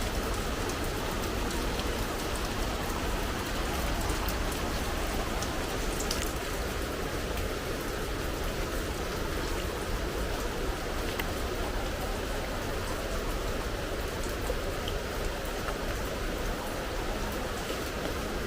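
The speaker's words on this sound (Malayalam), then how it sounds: "അടുത്ത മഴ പെയ്യുന്നതാണ് തോന്നുന്നു" Steady, dense rain pours down in an even, unbroken hiss that stays at one level throughout, with no voices over it.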